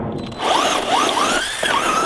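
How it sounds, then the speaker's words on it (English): A HobbyKing Desert Fox V2 RC car's electric motor whines and squeals in rising and falling pitch sweeps, loud and close, with no talk over it. "I'm not liking the noises coming out of that car at the moment."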